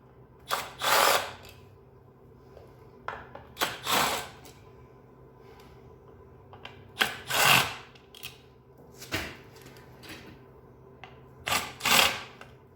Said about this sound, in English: Got my little Milwaukee quarter-inch drive ratchet, or gun. Make sure we're in reverse.